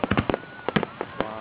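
Independence Day fireworks burst over a lake in San Antonio, a rapid run of sharp booming cracks followed by a few more scattered bangs, loud and booming.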